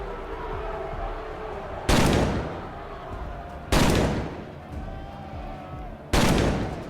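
Gunfire from the post-Earth RPG Colony Ship, three loud, sharp gunshot bursts spaced about two seconds apart over a low ambient game hum, with no talking.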